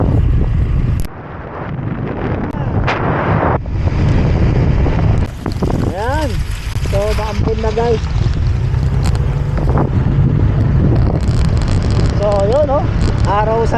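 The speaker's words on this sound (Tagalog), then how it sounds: "lakas ng hangin" Strong wind buffets the microphone in a steady roar, with water and boat noise beneath and bursts of people talking throughout.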